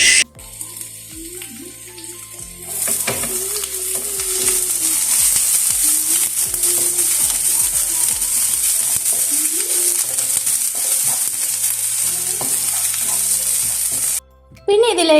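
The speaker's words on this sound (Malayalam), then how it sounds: "നമ്മൾ കുറച്ച് വെളുത്തുള്ളിയും അതുപോലെ തന്നെ നീളത്തി അരിഞ്ഞ സവോളയൊക്കെ ഒന്ന് ഇട്ട് കൊടുക്കുന്നുണ്ട് എന്നിട്ട് ഇത് നല്ലപോലെ ഒന്ന് വഴറ്റി കൊടുക്കുന്നുണ്ട്" Garlic and long-sliced onion sauté in hot oil, a steady bright sizzle that starts after a quieter opening and runs on with occasional scrapes of stirring, ending in a brief pause and a final burst.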